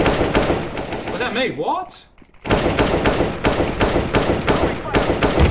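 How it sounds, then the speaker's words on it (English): Rapid automatic gunfire in the shooter game CS:GO, loud and close in dense bursts, broken by a brief pause before the shooting resumes; a player speaks over it. "Oh, who keeps shooting me?"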